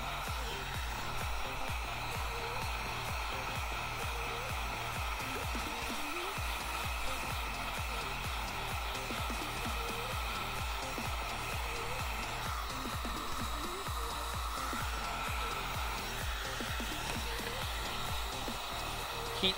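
A heat gun heats an area with a steady, unbroken blowing hiss, like a hair dryer. The sound holds the same level throughout, and no one talks.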